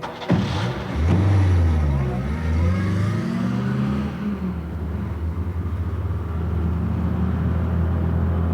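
A car engine surges and revs as a dramatic effect, loud and close, with a rising rumble that settles into a steady drone, and a voice briefly overlapping near the start.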